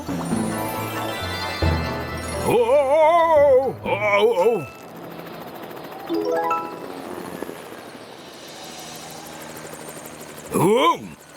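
A cartoonish helicopter sound with whirring, rising-and-falling tones and playful effects, heard in short bursts with quieter gaps between.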